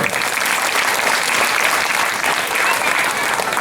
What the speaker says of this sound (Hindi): एक जोरदार तालियों से उनका हम लोग जो है